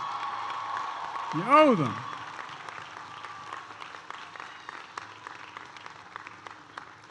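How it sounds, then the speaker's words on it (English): Applause from the crowd in the stands at a university commencement, a steady wash of clapping with a brief cheer near the start and a voice speaking over it. "Stand up and give your parents and your grandparents and those who got you an applause."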